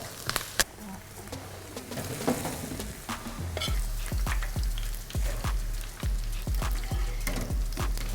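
Tadka of ginger, garlic, curry leaves and green chilli in hot oil on a switched-off gas stove, sizzling softly at first, then a loud, close, continuous crackle and spatter from about halfway through, with no talk.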